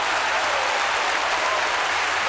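A church congregation claps together during a sermon, a continuous even wash of applause at moderate volume for a couple of seconds with no voices above it.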